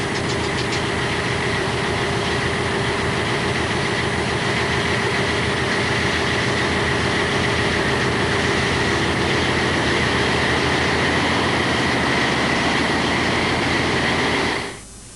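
Two diesel engines of the submarine Oracle, running on the surface to charge its batteries, give a loud, steady mechanical drone with a dense pounding rhythm throughout, cutting off abruptly at the very end.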